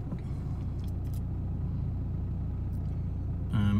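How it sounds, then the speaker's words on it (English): A 2020 Nissan Navara 2.3 dCi diesel idles with a steady low rumble, and near the end a louder tonal burst marks a shift in the engine sound. "press the start button, fires into action straight away"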